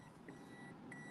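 A vehicle's warning beeper gives two faint, short beeps about half a second apart over a low, steady engine rumble.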